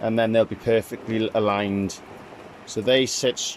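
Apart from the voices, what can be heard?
No everyday noises stand out.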